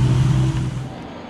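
Toyota Supra engine idling after a power steering line replacement, a steady low hum with a faint tonal whine that eases and fades toward the end of the brief stretch.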